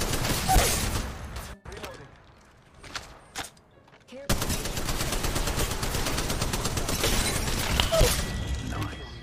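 Rapid automatic gunfire in the battle royale mobile game Apex Legends Mobile: sharp bursts at first, a brief lull, then a long, loud stretch of sustained firing, with voices talking over it.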